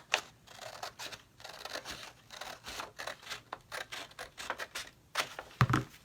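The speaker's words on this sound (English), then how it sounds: "I'm going to cut just outside that line" Scissors cutting paper for a clipboard cover, close and crisp, snipping in a quick series of separate bursts with short pauses between cuts and no talking.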